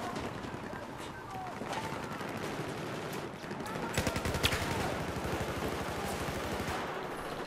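Shots fired out of a window in Battlefield 4 crack in rapid automatic bursts, with a steady volley growing denser and louder midway through and rattling on to the end amid game noise.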